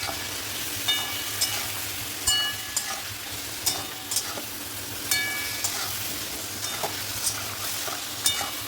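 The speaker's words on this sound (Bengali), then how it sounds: "এবার এটা অল্প একটু জল দিয়ে মশলাটাকে আমি ভালো করে কষিয়ে নেবো।" Spice paste of green chili, ground cumin and ginger paste with a little water cooking down in a pan for a Bengali rohu fish curry, giving a soft steady sizzle with scattered clicks of stirring throughout.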